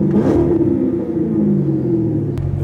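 A Chevrolet Corvette's engine rumbles low and steady at close range, with a slight swell like a light rev near the end and no talking.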